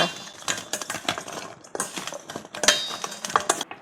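Sliced zucchini is tossed in a bowl with a tablespoon of salt. Close, irregular clicks and clatters come in quick bursts, like a utensil knocking against the dish, with no talking.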